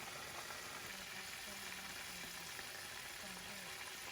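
KFC-style chicken pieces fry in hot oil, giving a steady, dense sizzle with crackling bubbles throughout, close and continuous with no talk.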